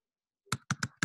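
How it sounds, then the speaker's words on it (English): A few sharp keyboard keystrokes typing a proposal, close up after a brief silence, sparse and uneven in rhythm. "Yes, I am typing it now."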